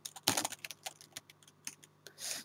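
Soft, rapid typing on a computer keyboard, a quick irregular run of light clicks with one louder cluster of keystrokes, close and quiet.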